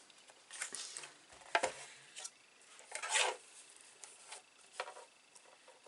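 Paper trimmer slicing cardstock for a Stampin' Up! card, heard as a series of quiet scraping, rasping strokes with a few louder swipes spaced irregularly, close by with no talking.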